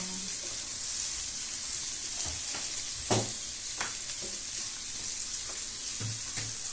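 Fried tofu (tokwa) and water spinach stir-frying in a pan, a constant hissing sizzle broken by several scraping, clinking strokes of a utensil against the pan.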